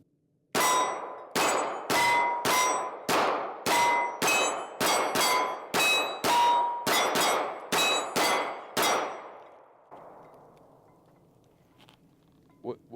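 Rapid pistol fire from a Canik MC9LS at an outdoor range rings off steel targets, fourteen sharp metallic clangs in a quick alternating rhythm, each with a ringing tail, loud and close, followed by quiet.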